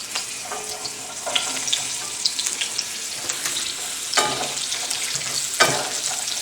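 Green beans frying in hot oil, Sichuan style, with a constant close crackling sizzle broken by scraping stirs.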